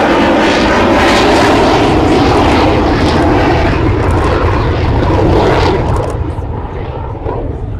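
Avro Vulcan XH558 jet bomber flying a display at Farnborough Air Show, a loud, steady broadband engine roar filling the whole stretch and easing slightly near the end, with no talk.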